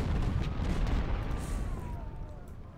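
Counter-battery artillery fire in the Civil War battle game Ultimate General: Civil War, a deep continuous rumble of cannon booms with a faint whistling tone drifting above it and slowly fading.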